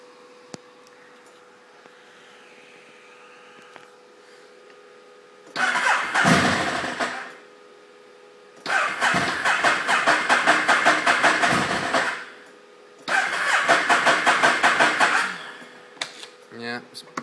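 A 2009 Ducati Monster 1100 with a hard-start problem cranks in three separate bursts, each a loud, close, rapid churning of the starter lasting a few seconds, with quiet gaps between and no catch into a steady idle.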